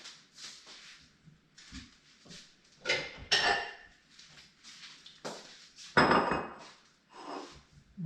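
Kitchen dishes clatter as a bowl is fetched while making squash and sweet potato soup, with several sharp clinks and knocks of crockery and cutlery spread among quieter shuffling handling sounds.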